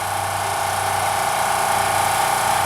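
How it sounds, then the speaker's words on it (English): Generator running steadily to power an air compressor at an off-grid homestead deck build, a continuous loud mechanical drone with a constant pitch and no variation. "I got a generator going on there in the background. That generator is powering the air compressor."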